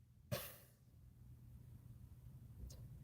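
A single short, sharp sneeze bursts out in a quiet room, followed by faint background hiss and a tiny second breathy sound near the end.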